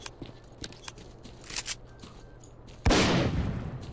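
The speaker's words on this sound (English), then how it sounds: "I suppose I should test out the spread on this newfangled shotgun we got." A single loud shotgun blast from a weapon in the Clear Sky Faction Wars mod of S.T.A.L.K.E.R., cracking near and sharp with a decaying tail, preceded by quieter game clicks and ambient sounds.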